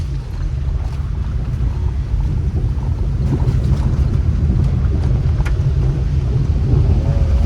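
Sea waves at Velneshwar beach during a rising tide, with a steady loud roar of surf and wind buffeting the microphone throughout.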